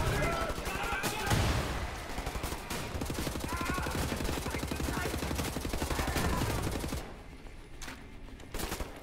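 Sustained assault rifle fire in Wolfenstein: The New Order, a dense run of rapid shots with a few grenade-like blasts mixed in, loud and continuous for most of the stretch before thinning out near the end.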